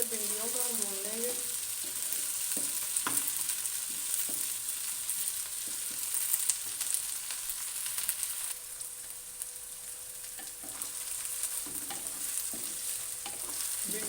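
Okra (bhindi) frying in a pan for dhaba-style masala bhindi, a steady bright sizzle throughout with occasional spatula scrapes and stirs, close and moderately loud, with a brief voice near the start.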